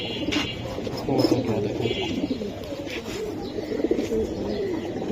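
Silver giribaz pigeons coo in soft, rolling, repeated phrases close by, a steady flock murmur with faint chirps and some background voices.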